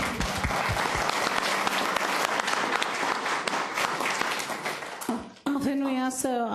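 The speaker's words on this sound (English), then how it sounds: "let's give a round of applause." Council chamber audience gives a round of applause at a city council meeting, loud steady clapping throughout that cuts off abruptly near the end as a voice starts speaking.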